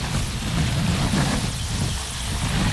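A military helicopter flies overhead during an FSB special operations exercise, its broad rotor and engine roar continuous and loud, filling the short stretch without voices.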